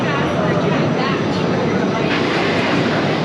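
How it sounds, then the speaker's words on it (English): A Rock 'n' Roller Coaster train at Disney's Hollywood Studios, an LSM-launched ride, passes by with a loud, broad rushing roar that stays steady and close throughout, while voices chatter in the crowd. "here comes the other train, getting ready to go on by"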